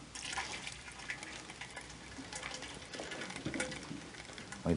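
Ice cream mixture for a honeybun flavor pours into an ice cream machine, a continuous splashing liquid sound that stays steady and fairly close, with no talking.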